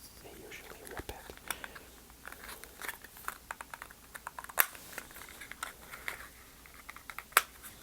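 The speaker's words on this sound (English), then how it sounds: "I am terrible at opening packaging like this. I usually rip it." Soft crinkling, tearing and tapping of a small Sephora cosmetics package being opened come in scattered clicks and rustles, close and quiet, with a couple of sharper snaps along the way.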